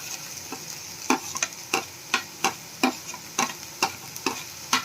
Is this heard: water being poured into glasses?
no